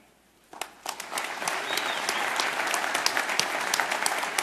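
An audience at the Red Pill Expo breaks into applause after a quiet moment, clapping starting abruptly and swelling into a steady, fairly close round that carries on without speech over it.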